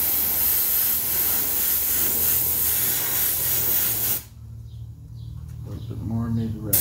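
An airbrush spraying paint freehand over a stencil for a digital camouflage pattern, a steady close hiss for about four seconds that cuts off abruptly, followed by someone speaking.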